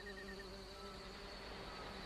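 Bees buzz around their nest in the video game Book of Unwritten Tales, a faint, continuous insect drone with steady tonal hums holding through the short moment.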